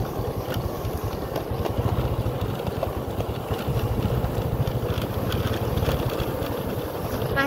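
A motorcycle engine runs steadily nearby on the road between Cilibur and the Bumi Ayu terminal, a continuous low chugging drone with rapid pulsing and no talk.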